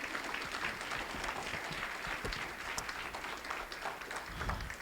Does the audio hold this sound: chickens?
no